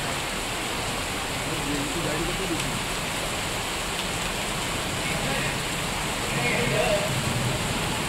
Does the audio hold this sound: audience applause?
no